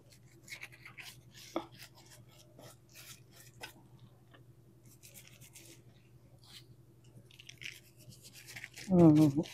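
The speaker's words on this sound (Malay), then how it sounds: "Mak Tok nak lomok kunyit dengan garam dulu nak bakar ikan ni" Hands rub turmeric and salt into a freshwater lampam fish before grilling, making soft, scratchy rubbing and light tapping noises in a quiet home kitchen, with a louder handling bump near the end.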